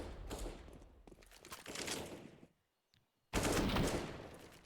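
Automatic rifle fire from an AK in Counter-Strike on the Inferno map during a professional esports match, loud sustained bursts of shots with a brief silent gap before another heavy volley.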